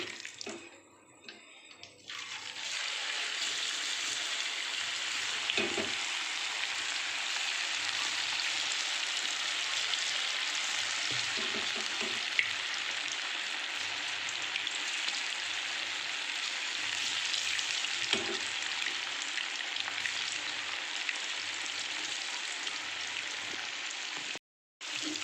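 Chicken frying in a pan, a dense continuous hiss of hot oil that stays loud and even throughout, with soft periodic low knocks as the pieces are turned, and a short pause near the end.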